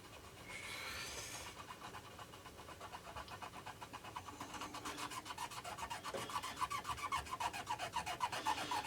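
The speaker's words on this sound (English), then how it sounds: "A little bit of acetone, just to see what happens when you take a bit of the paint away." Acetone being rubbed by hand over the painted back of a 1995 Ibanez RG470 electric guitar body in rotten condition, a steady rapid scrubbing rasp that grows louder and more rhythmic toward the end, with no talking.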